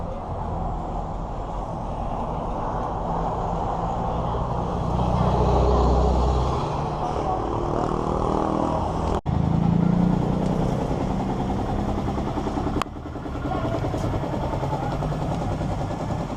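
Rented motorbike ridden through traffic in Phuket, Thailand, with a steady engine drone and road rumble up close, a couple of sharp clicks or knocks, and faint voices in the background.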